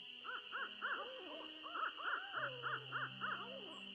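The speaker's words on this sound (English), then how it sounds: "Some other weird bird sounds." Strange, repeated bird-like calls from the Nancy Drew: Ghost Dogs of Moon Lake video game, a string of rising, yelping hoots in an even rhythm over a steady high tone and low background hum, with no talking.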